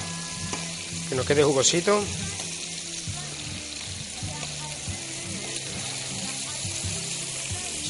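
Pork tenderloins seasoned with cumin sizzle steadily in a frying pan, with a brief louder burst of stirring and clatter as they are turned, while a person talks over the cooking.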